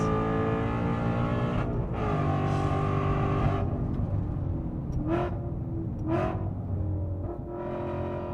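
Ford Mustang RTR Spec 5 with over 800 hp accelerating hard on the Nürburgring, a loud, continuous engine roar climbing through the gears, with brief dips at quick upshifts around the middle and end.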